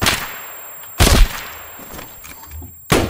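Gunshots in Escape from Tarkov ring out in three sharp, loud single cracks about a second apart, each trailing off in a short echoing tail.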